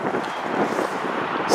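Wind buffets the microphone outdoors beside a 2019 Maserati Ghibli S Q4 GranLusso, a steady broad roaring rush with no talk, swelling slightly at the very end.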